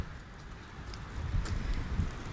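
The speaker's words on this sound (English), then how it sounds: "it hasn't quit raining since about 12 o'clock, and it just now started raining again." Rain falling steadily outdoors, a soft continuous patter with low gusty rumbles growing louder midway.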